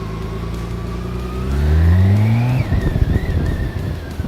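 A BMW K1600 Bagger police motorcycle engine revs up close, pitch climbing steadily over a couple of seconds before dropping back into a rough, throbbing idle, with no voices over it.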